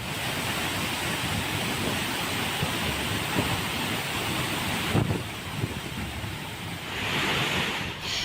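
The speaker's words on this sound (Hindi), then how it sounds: "ऐसा लगता है मानो झरने से पानी का विस्फोट हो रहा हो।" Constant, dense roar of heavily falling water from a flooded waterfall, broad and unbroken, with slight surges in intensity throughout.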